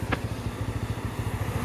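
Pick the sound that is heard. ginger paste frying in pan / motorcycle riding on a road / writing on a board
motorcycle riding on a road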